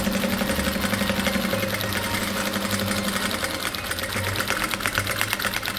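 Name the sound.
sewing machine stitching patchwork fabric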